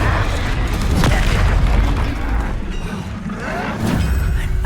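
Confringo fire spells burst in the Hogwarts Legacy video game, loud, dense booming explosions overlapping in a continuous barrage of magical combat.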